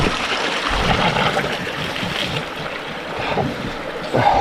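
Water running and lapping at a steaming volcanic hot spring in an Alaskan rainforest, a constant moderate wash with small splashes and a louder swell near the end, no speech.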